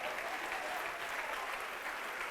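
A congregation at a church service applauds throughout, a dense, steady wash of clapping with no speech over it.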